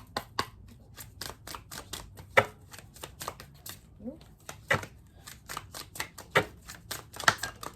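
Tarot cards are shuffled by hand, with crisp irregular riffles and slaps close by, some of them sharp and loud, while a quiet voice murmurs in the background.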